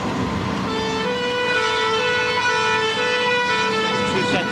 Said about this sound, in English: 2 sets of air horns on the machine.